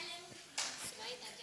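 At a professional competency seminar, a short burst of hand clapping rises from a small group and quickly fades, with faint voices around it.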